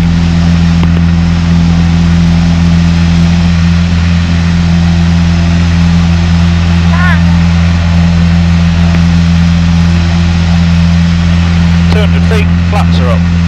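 A steady, loud light-aircraft engine drone from a Piper PA-28 holds constant at full power during climb-out, heard from inside the cabin, with brief faint voices over it.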